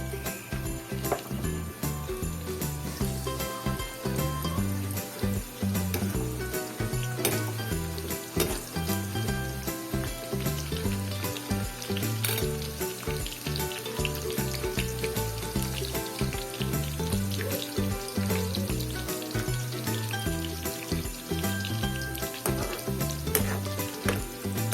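Onions sizzle and fry steadily in a pan for pinakbet, a continuous close crackle with occasional stirring scrapes and no talking.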